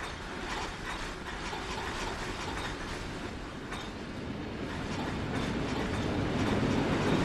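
A train rolls steadily along the rails in the Train Sim World video game, a continuous loud rumble with clattering wheel noise and mechanical hiss that slowly builds in volume, with no voices.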